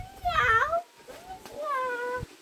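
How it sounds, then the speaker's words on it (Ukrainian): Cat outdoors on a street walk, meowing in a couple of drawn-out, rising-and-falling calls close by, with a gap between them. "там ще один котик заліз"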